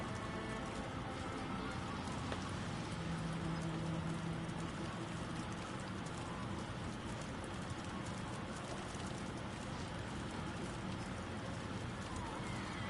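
Steady rain falls in the Heavy Rain video game, a continuous even hiss of drops on surfaces that lasts throughout, with a faint brief tone partway through and no clear speech.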